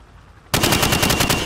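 Rapid automatic gunfire in a video game shooting range sprays pop-up targets behind plywood. A loud burst of evenly spaced shots starts abruptly after a brief quiet moment, with no talk.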